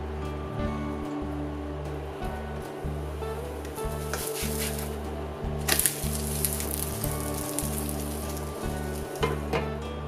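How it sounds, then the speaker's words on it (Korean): Pastry pan-frying in butter and cooking oil, a steady close sizzle and crackle running throughout, with a low repeating hum underneath and a brief louder burst of spatter midway. "버터하고 식용유를 이용해서 튀기듯이 다시 한번 구워볼 거예요"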